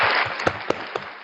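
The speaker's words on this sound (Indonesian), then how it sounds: "Sekali lagi kita beri aplaus buat narasumber kita pada malam hari" An audience at an evening church gathering claps for the guest speaker in a brief, dense wash of applause with a few sharper individual claps standing out.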